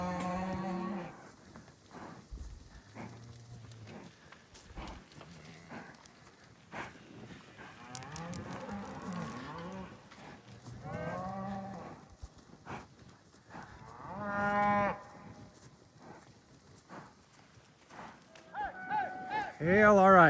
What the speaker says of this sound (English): These cows do not want to go back.